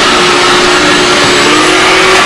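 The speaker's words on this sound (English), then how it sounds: "neighbor's mowing" A steady, loud engine drone with a constant mid-pitched hum and broadband roar, like a mower running close by.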